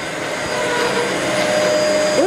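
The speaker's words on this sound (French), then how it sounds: "Swan, t'es censé avancer avec l'aspirateur" A vacuum cleaner runs continuously in a home during a challenge, its steady motor whine and airflow roar holding level throughout, close and fairly loud.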